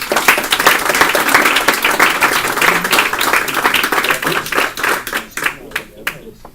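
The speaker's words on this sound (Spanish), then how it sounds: "nuestro presidente, Maurice Ferré, para quien pido un aplauso y que le den la más cálida bienvenida." An audience applauds a speaker being welcomed at a conference, with steady dense clapping that fills the room and then thins out into scattered claps near the end.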